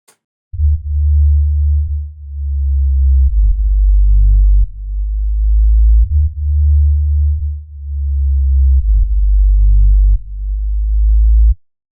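Deep sub-bass notes in a music mix trailing into an unhelpful reverb tail, a loud low-pass filtered throb in long sustained swells that blur into one another, alone without talk.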